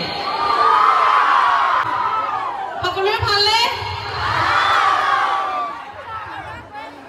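A crowd cheers and shouts loudly in two big swells at a Bihu event in Assam, with a voice speaking briefly between them.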